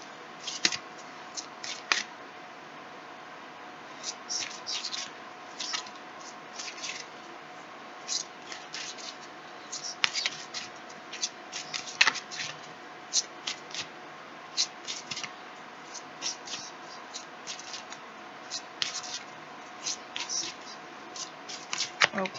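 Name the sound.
shuffling tarot cards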